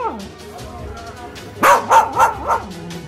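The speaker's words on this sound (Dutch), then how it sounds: "Ach, wat kun jij mooi zingen, Bens?" An elderly English Cocker Spaniel sings with drawn-out howls and whimpers, rising into a cluster of loud wavering yowls near the end, while someone talks softly to it close by.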